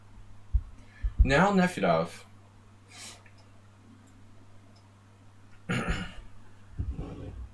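A single person on a chess stream coughs and clears their throat a few times, short close bursts separated by quiet pauses over a low steady hum.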